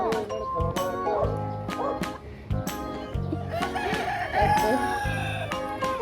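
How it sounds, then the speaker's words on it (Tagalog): Chickens close by on a farm with animal feeding, clucking and calling repeatedly and loudly, with a dog's bark mixed in and people talking nearby. "Mga manok."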